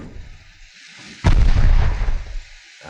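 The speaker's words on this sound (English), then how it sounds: "he has just taken a really bad hit" Naval artillery fire and a heavy explosion in the warship game Ultimate Admiral Dreadnoughts: a loud, sudden boom erupts over low rumbling and rolls on for more than a second before fading, with no talk.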